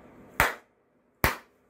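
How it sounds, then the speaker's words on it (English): Two sharp hand claps about a second apart, close and crisp, each decaying quickly into near silence. "I'm going to clap my hands and then you fall back"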